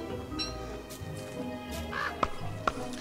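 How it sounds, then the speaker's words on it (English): Crows caw in the video game Don't Starve, two or three sharp, fairly loud caws over a steady background of game ambience and music. "Crows, you can make bird traps and stuff."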